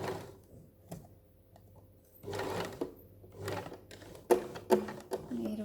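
A sewing machine stitches a cushion in short, rapid bursts of mechanical clatter, stopping and starting as the fabric is turned, close and fairly quiet.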